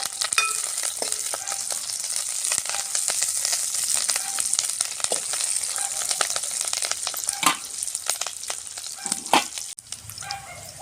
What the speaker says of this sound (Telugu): ఇప్పుడు కోసిపెట్టిన ఉల్లిగడ్డ పచ్చి రెండో రిక్కలు కలజావా చేస్తాను